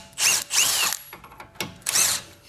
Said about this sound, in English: Now let's take the shock bolt out first.